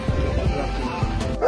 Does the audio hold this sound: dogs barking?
yes